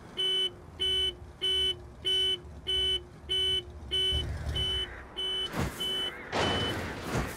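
A car alarm in the Saints Row video game (2022) sounds in regular, loud, evenly spaced electronic beeps, about nine pulses, before bursts of noise and impacts break in at the end.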